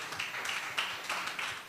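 A conference audience claps in response to a call for applause, a steady scattered patter of hands that lasts throughout, moderately loud with no speech over it.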